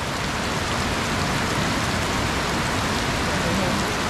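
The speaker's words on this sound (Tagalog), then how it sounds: "Pero mukhang humupa na yung ulan" Steady rain pours down continuously, a dense, even hiss of drops with no voices.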